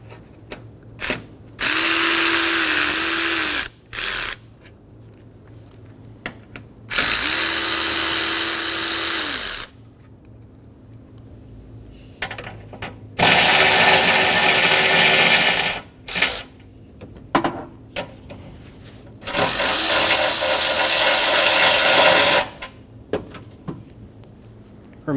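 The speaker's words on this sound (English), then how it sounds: "Using a 10mm socket, we're going to remove the 4 bolts for the condenser." A power drill with a 10mm socket spins out the condenser bolts on a 2007-2011 Toyota Camry 2.4L, four loud whirring bursts of a few seconds each separated by quiet gaps and small clicks.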